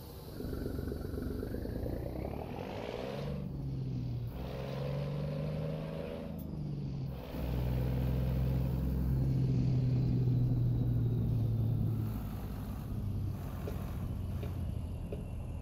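Cummins M11 engine in a Freightliner FLD120 truck in American Truck Simulator, a steady deep diesel rumble that rises in pitch through several gear pulls with a brief dip between shifts, running alone.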